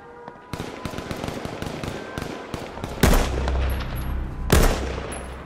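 Gunfire in the video game H1Z1, starting as a rapid run of sharp, fairly close shots and then breaking into two heavy, booming blasts that ring out afterward.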